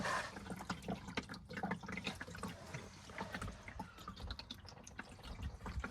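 Water pours steadily out of a leak in a Bentley, a continuous close splashing and gurgling with dripping, filling up a level without pause.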